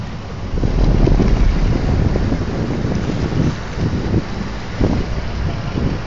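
A double-engine tugboat at sea off Minicoy, Lakshadweep, towing a floating concrete sump: a continuous deep engine rumble mixed with wind buffeting and water noise, loud and close throughout.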